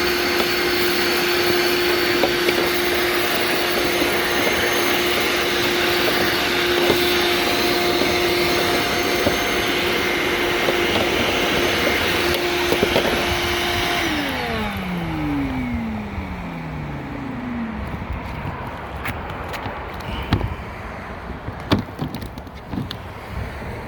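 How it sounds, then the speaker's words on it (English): A vacuum running in reverse as a blower pushes air through a pipe down a gutter, a loud steady whine with a constant tone that drops in pitch as the motor spins down midway, followed by quieter clatter and knocks. "we got our vacuum all set up. So the pipe is connected to the backside, the blowing side"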